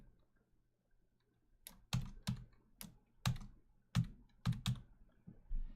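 Keystrokes on a computer keyboard, a quick uneven run of about ten close, crisp clicks after a near-silent start, with no talk over them.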